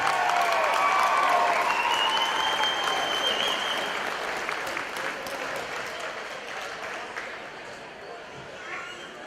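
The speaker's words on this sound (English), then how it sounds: "Let's give a round of applause one more time for Alex and Brian." Spectators at an amateur boxing event applaud the two boxers, a broad wash of clapping with some cheering and whistles that gradually fades over nine seconds.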